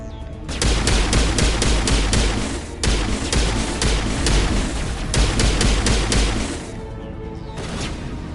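Rapid pistol gunfire in the video game Mass Effect, loud repeated shots in fast dense bursts broken by a couple of brief gaps, trailing off into quieter game ambience.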